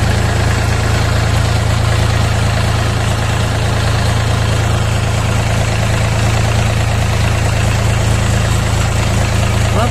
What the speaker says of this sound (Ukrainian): Чуєте, як працює двигун. Не рокає, не прокає, як ви мені коментуєте, спокійненько робить.